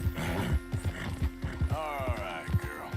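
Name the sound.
horse in the video game Red Dead Redemption 2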